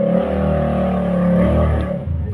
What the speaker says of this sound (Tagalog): Ang ingay nung sasakyan